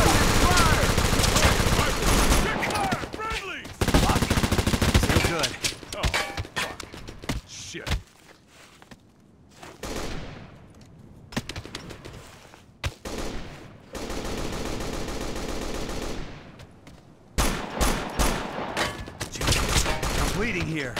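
Heavy suppressive gunfire in Operation Flashpoint Dragon Rising: loud sustained automatic bursts broken by short quiet gaps, with shouting voices mixed in among the volleys.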